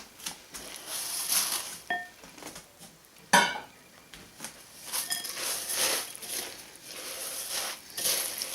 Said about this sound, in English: And we'll continue to mix this now.